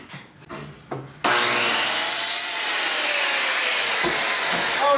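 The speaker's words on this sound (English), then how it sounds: "circular saw." A table circular saw spins up and cuts wood for a top bar bee hive: a few light knocks and a faint motor start, then a loud sustained whining buzz as the blade bites through the board.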